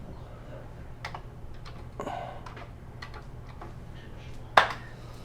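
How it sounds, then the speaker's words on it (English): Light clicky keystrokes on a Commodore 16 keyboard typing a directory command, a few soft scattered presses in a quiet room ending with a sharper key tap. "I can probably just type directory"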